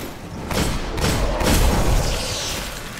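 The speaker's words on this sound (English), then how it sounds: "it's always satisfying getting a headshot with that firefly effect. Makes all that stuff like explode" Firefly perk headshot explosions in the video game Destiny, heard as a few muffled booms and thuds rolling together at close range over a dense, busy game soundscape, with no talking.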